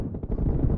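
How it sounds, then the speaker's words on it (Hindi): Gunfire in a team deathmatch shooter video game, a short dense burst of loud low booming shots, close and continuous, with no talk over it. "ये गन क्यों चला रहे हो?"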